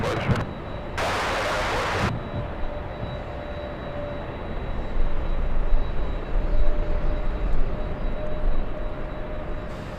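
An airliner takes off from LAX bound for Atlanta, running late, its steady broad roar swelling a little in the second half after a brief loud burst near the start; no one talks.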